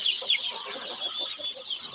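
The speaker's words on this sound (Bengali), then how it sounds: "দুইশো কাছাকাছি অরিজিনালি দেশি মুরগির বাচ্চা" Native chickens and about two hundred young chicks clucking and cheeping together, a busy layered chorus of small calls at moderate distance.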